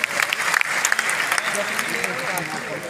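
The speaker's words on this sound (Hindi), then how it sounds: "एक बार सर के लिए जोरदार तालियां।" An audience bursts into loud, dense applause for a guest at a live maths seminar meet-up in Patna, steady clapping filling the room throughout without a break.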